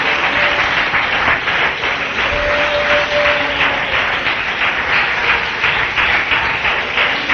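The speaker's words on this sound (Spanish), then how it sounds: "¿Alguien quiere darle ese aplauso de manera espontánea," Congregation applauding in a church service, a dense, steady round of clapping from many hands that carries evenly throughout without pause.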